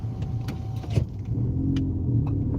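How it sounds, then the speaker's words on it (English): Inside a car, a power window motor whirs steadily under the low hum of the engine and road noise. "Roll up your windows so you're not getting blasted with air"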